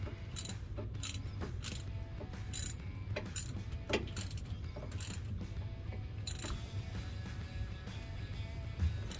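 A ratchet tightening bolts on the rear end of a Ford F-150 during a seal swap, clicking in quick bursts separated by short pauses, close and fairly quiet over a low background hum.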